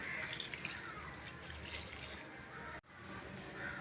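Water is poured into a cooking pot of chopped onion and tomato for a moong dal vegetable sambar, giving a close, continuous splashing pour for almost three seconds before it cuts off sharply into quieter room sound.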